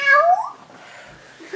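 A child imitates a cat, giving a high, rising meow-like cry that slides upward and then trails off into quieter background noise, close and fairly loud.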